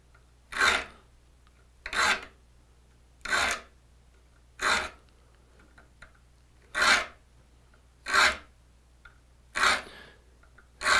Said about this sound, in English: you have to make sure you hit the right tooth, because you don't want to backfile your crosscut teeth